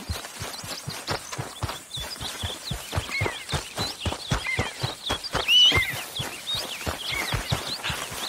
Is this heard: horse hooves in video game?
yes